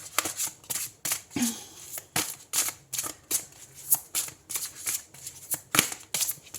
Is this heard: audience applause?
no